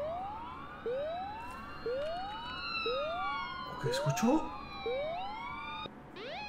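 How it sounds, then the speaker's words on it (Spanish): Police or ambulance sirens wail in a steady cycle of rising sweeps about once a second, fairly loud and continuous, with a brief spoken question over them. "Sirenas. De policías o ambulancia, no sé."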